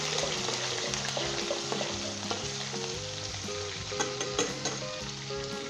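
Garlic and ginger frying in oil over medium heat for a Pakistani beef qeema korma, a steady, close sizzle with faint stirring, running the whole time under melodic background music.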